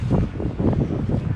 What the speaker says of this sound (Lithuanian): šalta, lietus ir net krapina, o vėjas koks.